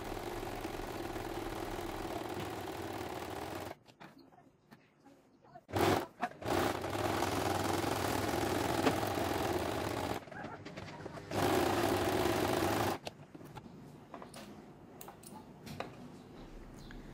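A sewing machine stitching the lower part of a niqab, its steady mechanical whir running in long stretches broken by short pauses and a few clicks, close and moderately loud, with no talking.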